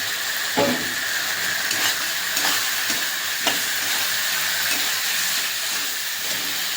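Fried potatoes being stirred into chilli spice in a hot pan for a fish head curry, a loud continuous sizzle and hiss with repeated spatula scrapes at an uneven rhythm.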